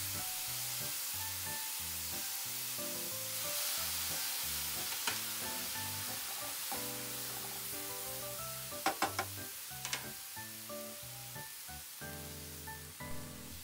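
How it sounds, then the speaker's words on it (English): Anchovies stir-fried in a pan with sugar and soy sauce, a continuous soft sizzle with scraping and stirring, a few sharper clinks of the utensil against the pan, while background music plays. "Mix the 멸치볶음 around as you put the ingredients."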